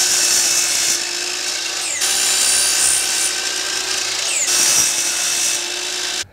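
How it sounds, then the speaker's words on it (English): A miter saw cutting angled aluminum pieces for a camera jib gives a loud, steady high-pitched whine that shifts as the blade bites into the metal, ending abruptly, with no talking. "So I'm gonna use my miter saw to make all these cuts."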